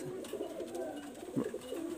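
A pigeon at a breeding loft coos in low, rolling, throaty phrases, close and fairly soft, with a short burst near the middle; no talking.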